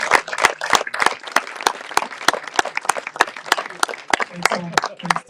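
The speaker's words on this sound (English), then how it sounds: "give you a final round of applause to our athletes" Applause for X-Alps 2023 athletes at a press conference, with sharp, distinct claps from a smallish audience forming an uneven rhythm, and voices murmuring beneath.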